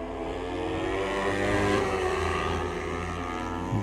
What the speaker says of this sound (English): Formula 400s, folks, the two-stroke screamers